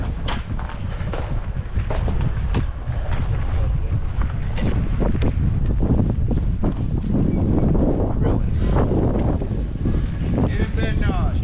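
Steady, heavy wind buffeting the microphone, with low rumbling gusts throughout and faint voices underneath.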